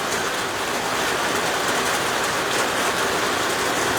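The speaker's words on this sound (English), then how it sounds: "Good news is the rain's about to stop." Heavy rain pouring down at a campground, a dense, steady hiss filling the space with no voices, loud and constant throughout.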